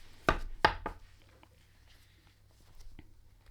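Pages of a Filofax Malden pocket planner being flipped, a few sharp papery flicks in quick succession, close, followed by quieter rustling and one soft tap.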